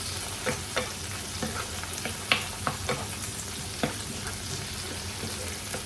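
Fresh tomatoes frying in a pan for Filipino pork menudo, with a constant sizzle broken by repeated spoon scrapes and taps against the pan, close and fairly loud.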